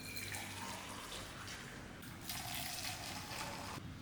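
Tea poured back and forth between a cup and a small lota to mix and froth it, a continuous splashing liquid stream with brief breaks and shifts as the pour changes direction.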